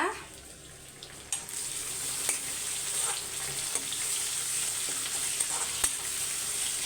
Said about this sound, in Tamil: தக்காளி வந்து வதங்கட்டும்